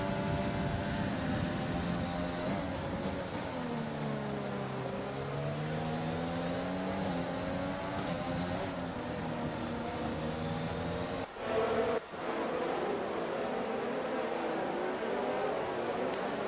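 A Formula 1 car engine in the F1 2020 racing game runs loud and steady across the whole stretch, its pitch rising and falling through gear changes, with a brief drop near the end before it picks up again.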